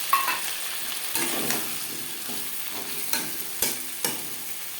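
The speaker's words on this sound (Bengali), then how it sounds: "তিন 4 মিনিট আলু ভেজে নেওয়ার পর দিয়ে দেবো আদা বাটা, কাঁচা পাকা লঙ্কা বাটা।" Potatoes frying in a pan with ginger paste and green and red chili paste, a gentle sizzle broken by several sharp spatula knocks and scrapes at irregular intervals, close, with no talking.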